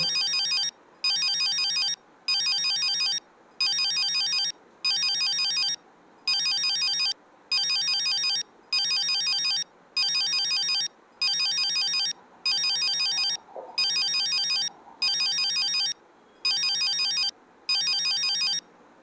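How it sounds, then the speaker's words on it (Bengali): A phone ringtone rings over and over in steady, evenly spaced bursts with short gaps between them, loud and close, with no voices. "আবার ফোন বেজেছে।"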